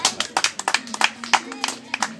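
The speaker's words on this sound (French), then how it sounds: "Applaudissez bien. Applaudissez." A small audience at the inauguration of a company's head office claps for the group president, with irregular, fairly close individual claps from a few people over a faint background voice.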